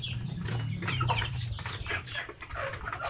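Steady chorus of two-month-old Zampen native chickens clucking close by, overlapping calls continuing throughout with a low background hum.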